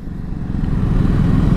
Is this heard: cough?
no